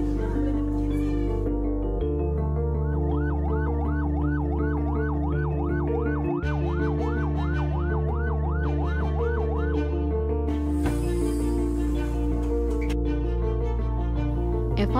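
An ambulance siren wails in a rapid, regular up-and-down cycle over a loud, sustained musical bed, lasting several seconds in the middle before the music shifts.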